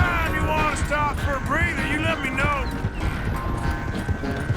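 Horse hooves clip-clop at a steady trot in Red Dead Redemption 2, a thoroughbred horse in an open-world western game, with a rhythmic beat under a constant background bed and brief whinny-like tonal sounds.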